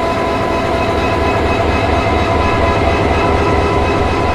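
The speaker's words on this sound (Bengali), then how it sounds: "তো এই হচ্ছে আমাদের ট্রেনের লোকোমোটিভ" A passenger train's locomotive, stalled with a fault that stops it from taking load, runs with a loud, steady, close droning rumble that does not change throughout, with no speech.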